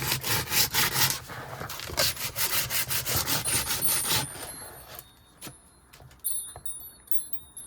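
Sandpaper of unknown grit roughing up a surface for a Halloween craft, rapid back-and-forth rasping strokes, loud and close for several seconds, then fading to sparse scrapes and faint jingling.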